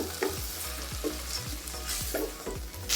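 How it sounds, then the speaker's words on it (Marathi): Soaked rice sautéed gently in a pan for egg biryani, a soft continuous sizzle with a few light spatula scrapes and stirring strokes, close by and without any voices. "आता भिजलेल्या तांदळाला जास्त परतून नाही घ्यायचं आहे"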